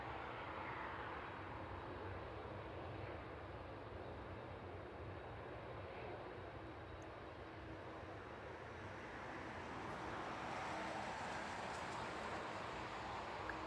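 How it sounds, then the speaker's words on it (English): A West Atlantic Boeing 737 touches down on runway 27 at night, a broad, steady jet roar heard from a distance that swells slightly toward the end, with no voices. "The West Atlantic 737, they're just touching down onto runway 27."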